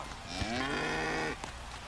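A cow moos once as a sound effect in the baseball video game MLB 25, a single drawn-out low bellow lasting about a second, clear and close with no talk over it.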